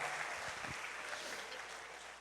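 A church congregation applauding, a brief burst of clapping heard faint and at a distance, with a low thump near the start.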